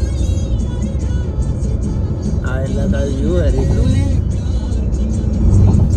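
A car driving along a smooth coastal road: a continuous low road and engine rumble from inside the cabin, steady throughout with a slight swell near the end, under people chatting.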